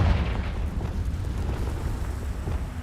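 A Confringo spell blast in Hogwarts Legacy, a deep rumbling explosion that booms at the start and then trails into a long, loud, churning low roar with no voices over it.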